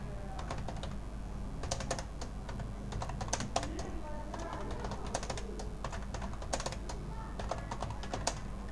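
Someone types data into Microsoft Word on a computer keyboard with quick, irregular clusters of key clicks over about nine seconds, close and clear above a low background hum.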